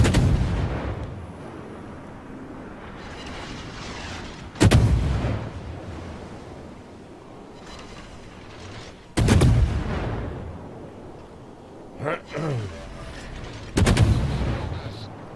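Heavy naval gun salvos in World of Warships, battleship combat involving the King George and Bismarck, boom out as four loud separate blasts spaced a few seconds apart over a steady rumbling battle ambience.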